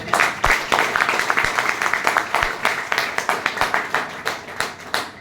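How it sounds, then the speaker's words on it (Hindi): Crowd at a product business event applauds loudly, a sustained barrage of many hands with sharp rhythmic peaks, close and energetic from start to finish with no talking over it. "एक बार जोरदार ताली"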